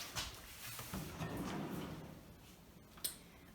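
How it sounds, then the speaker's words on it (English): A kitchen drawer slides open with soft rolling and clicking, ending in a brief sharp knock, fairly quiet and close with no talking. "So we also have a drawer over here."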